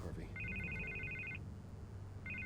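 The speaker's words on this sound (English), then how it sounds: "I can't get the phone to stop ringing." A telephone bell rings in two bursts in a Batman Telltale Series game scene, a steady electronic trill over a low background hum.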